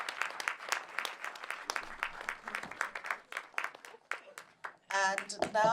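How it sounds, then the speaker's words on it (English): Audience claps for Eartha and Roger at a community Q&A in a London cinema, a sparse run of distinct hand claps that quickly thins out before a voice cuts in near the end. "Can we have a huge round of applause for Eartha and Roger?"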